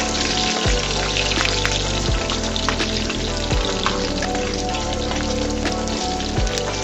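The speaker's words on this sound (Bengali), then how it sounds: "রসুন কুচিগুলো একটু লাল হয়ে আসলে আমি, দেখতে পারতেছেন হালকা একটু ব্রাউন কালার হয়েছে, এড করে দিব আমি কেটে রাখা পেঁয়াজ" Chopped garlic frying in a pan of oil for a cauliflower and egg dish, with chopped onion added, gives a dense, loud, unbroken sizzle up close, like heavy rain, over a low steady hum.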